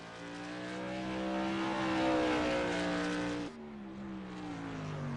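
Modified race cars roaring around Thompson International Speedway, a loud sustained engine drone that swells as the cars pass close by, then fades slightly before more engines follow.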